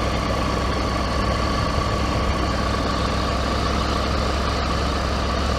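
A Triumph Tiger 900GT with an 888 cc engine rolling along in second gear with no throttle, a steady, even engine drone with wind rush, constant and close.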